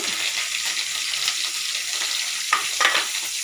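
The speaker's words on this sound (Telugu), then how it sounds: "వేసుకోవాలి రెడ్ చిల్లీ తర్వాత కరివేపాకు" Red chilli and curry leaves fry in oil for Telugu carrot rice, a bright continuous sizzling hiss close to the pan, with a couple of brief pops or stirring touches near the end.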